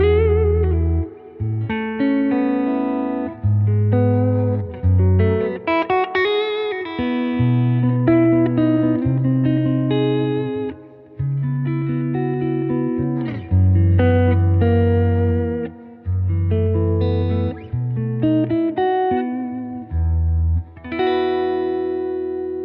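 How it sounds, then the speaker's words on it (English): An electric guitar plays straight into a hand-wired reissue Fender Princeton Reverb tube amp, clean and loud, with sustained chords and melodic phrases separated by short pauses and no talking. "so that is the Princeton Reverb"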